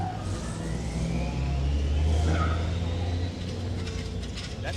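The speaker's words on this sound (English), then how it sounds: "That sounds like an exhaust rubbing." Drift car at a drift series round, its exhaust scraping and rubbing: a distant engine roar with a thin rising whine and brief scrape, heard under a commentator's talk.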